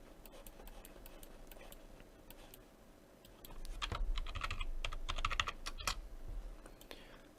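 Rapid keyboard typing, clicks close and fairly soft, growing busier and louder toward the middle before easing off.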